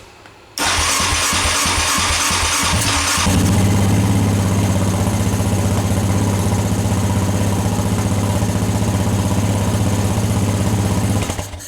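A Yamaha Raptor 700R ATV fitted with an MSD fuel controller cranks briefly with rapid pulses, fires up, and settles into a loud, steady, close idle that runs for several seconds before cutting off.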